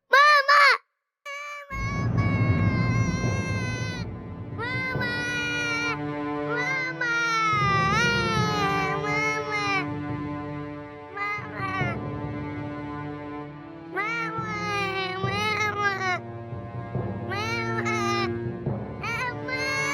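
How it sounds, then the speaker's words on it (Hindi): An infant wails over and over in a dramatic indoor scene, loud, close, wavering cries that rise and fall in long bursts with brief breaths between them, after a short clatter at the start. "बच्चा रो रहा है"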